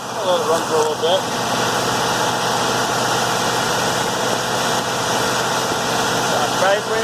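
An old car engine idling steadily up close, with a possible valve lifter noise in a continuous rumbling hum, and a person speaking over it.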